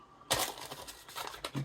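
Blade slicing through the plastic wrap on a Hachette Doctor Who Dalek build magazine issue gives a short burst of crinkling and tearing, close and quiet, ending in a small rustle.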